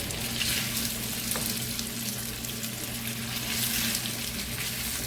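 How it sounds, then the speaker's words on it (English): Beef sizzling and frying in a hot pan, a steady, loud, continuous crackle and hiss close up with no talk over it. "So we're gonna go ahead and add our beef. Try to separate it as best you can. You can hear that sizzle."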